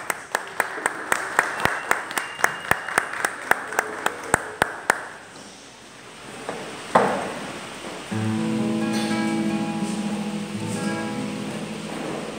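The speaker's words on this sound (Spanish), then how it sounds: "Por favor, un aplauso para los niños." An audience at a music and social transformation seminar in Bogotá claps for a children's performance, a run of distinct, evenly spaced claps that fades into quiet room noise before music begins.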